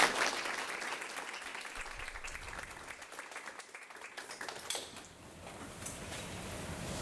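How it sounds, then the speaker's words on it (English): An audience gives a sustained round of applause for student dancers and engineers at an exhibit opening, dense clapping filling the room for about seven seconds with a brief dip partway through. "So let's give them a round of applause."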